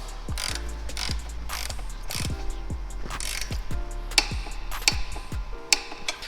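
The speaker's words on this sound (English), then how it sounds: "All we're going to do is we're going to torque the wheels." Torque wrench tightening the 19 mm wheel axle on a Honda Rebel 500 motorcycle to 38 foot-pounds, a rapid, close, crisp ratcheting click repeating in quick bursts throughout.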